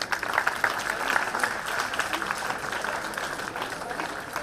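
Children clap at a school Founder's Day ceremony, producing moderate, steady applause from a crowd that fades a little toward the end, with some background voices.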